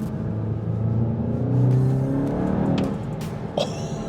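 VW MK8 GTI pulling hard in second gear, its engine note climbing in a rising rumbling drone that peaks midway then eases off, heard from inside the car with a sharp click near the end.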